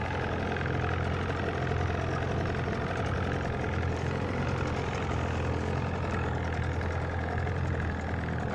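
Motorcycle engine idling after a change to NGK BR9HS spark plugs, a steady low quiet hum running evenly throughout with no talk.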